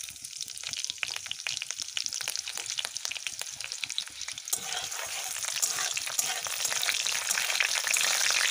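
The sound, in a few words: frying green chili and cumin tempering in a hot wok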